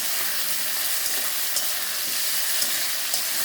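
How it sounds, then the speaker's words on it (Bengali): Slit green chillies and raw tomatoes frying in a pan, a bright steady sizzle with occasional soft pops and stirring taps, close and moderately loud, no one speaking. "কাঁচা লঙ্কাগুলো চিড়ে রেখেছি, এগুলো দিলাম।"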